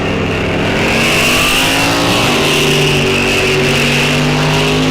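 A Chevelle drag racing car at Rock Falls Raceway, engine roaring loud and close at the strip with a sustained high-revving drone that shifts in pitch partway through, no voices over it.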